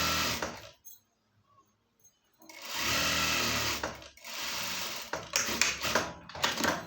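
Sewing machine stitching a pair of pants, running in close bursts: a short run, a pause of near silence, then longer steady whirring runs broken by brief stops.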